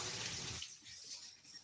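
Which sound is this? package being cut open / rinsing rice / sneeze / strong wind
rinsing rice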